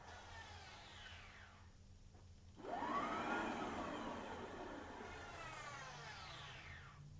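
A brushed 250W rear hub motor spins up on a test bench with a whirring, rising electric whine. It dips into a near-quiet lull, then surges back and holds a steady hum before winding down, moderately loud and close with no voices heard.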